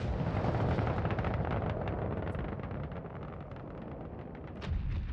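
A big bomb blasts in the space game Star Citizen, fired from a Retaliator ship: a loud, dense rumble that rolls on steadily for several seconds, with a fresh swell near the end.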